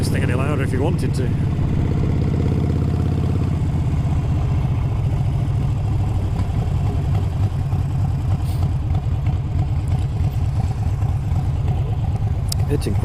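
A loud Harley-Davidson Iron 883 converted to 1200 rides in traffic. Its engine rumbles with a deep, uneven, throbbing idle and low revving, close to the microphone, with wind noise and someone talking over it.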